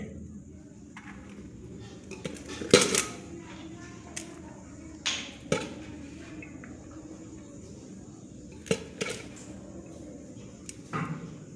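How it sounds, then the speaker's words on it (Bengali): Rice is served onto plates with scattered clinks and taps of dishes and cutlery, sparse and close, over a low household background. "ভাত বাড়া চলছে"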